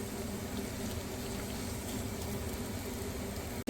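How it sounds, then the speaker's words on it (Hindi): Carrots cut lengthwise sizzle in ghee in a pan for Afghani Kabuli pulao, making a steady, close, even frying hiss that runs unbroken to the end. "थोड़ा सा इसको घी के साथ जो है वो फ्राई कर लेंगे हल्का हल्का"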